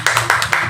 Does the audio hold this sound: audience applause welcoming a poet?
yes